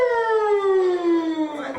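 A human voice imitates an ambulance siren with a single long, falling wail, loud and close, performed live at a show.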